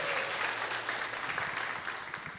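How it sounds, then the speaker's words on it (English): Audience applause at an improv theatre show, steady dense clapping from a crowd heard at moderate distance and sustained without pause. "Round of applause."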